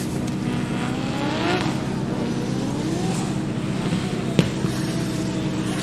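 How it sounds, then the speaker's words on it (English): Nissan S15 drift car with a 2JZ engine sliding around a race circuit, a steady engine drone with turbo whistles and rising, sweeping tones, one sharp pop near the end, heard from the trackside at moderate distance. "Rocco Law in the S15, giving us some turbo sounds with his 2J"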